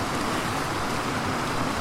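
The East Dart River at Postbridge on Dartmoor cascades beneath the old stone clapper bridge, a steady, close, broadband rush of flowing water with no voices.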